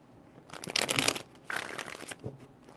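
Playing cards riffle and rasp through two quick shuffling bursts, close and fairly quiet, with a soft papery flutter trailing off at the end and no voices.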